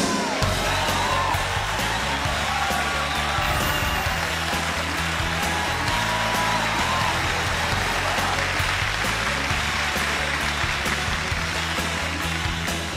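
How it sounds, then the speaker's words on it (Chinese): A studio audience on a televised job-seeking show claps steadily to welcome a university graduate contestant onto the stage. The dense, continuous applause runs throughout beneath quiet background music. "来，我们掌声有请张彤。"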